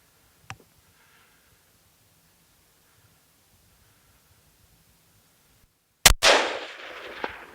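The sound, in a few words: gunshot fired at a bull during a hunt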